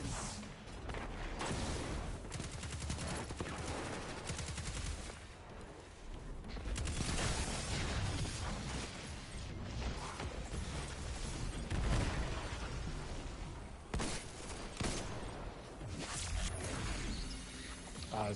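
Gunfire in the Destiny 2 video game: a dense, continuous barrage of booming shots and explosive impacts, loud and steady throughout with no clear pauses and no talking on top.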